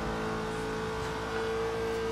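Corvette engine in the racing video game Forza Horizon 2, a steady loud synthesized drone with strong harmonics that swells slightly as it holds a sustained rev, with no voices.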